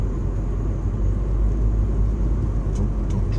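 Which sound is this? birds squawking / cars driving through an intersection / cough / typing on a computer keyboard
cars driving through an intersection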